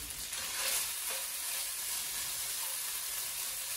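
Fried rice sizzles and crisps steadily in a hot pan, a dense, continuous frying hiss with faint stirring, close and fairly loud with no talking.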